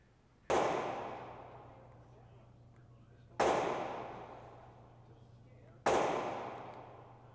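Three loud, evenly spaced gunshots at a public shooting range in Oxford, each a sharp crack with a long reverberant tail fading over a low steady hum.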